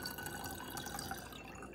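Distilled water pouring steadily into a container for a homemade household cleaner, a continuous close, bright trickling splash that fills the short moment alone.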